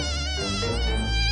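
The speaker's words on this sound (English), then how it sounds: "It's a mosquito!" A mosquito buzzes as a loud, continuous high-pitched whine with a wavering pitch, close by and alone.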